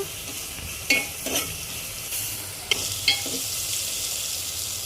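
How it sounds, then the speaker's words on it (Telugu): Tomatoes cooking with salt in a pan for Telangana-style tamarind rasam give a steady close sizzle, with a few light stirring knocks from a spoon against the pan and no talk. "ఇది టమాటా మగ్గడానికే కొంచెం మగ్గనిద్దాము టమాటా"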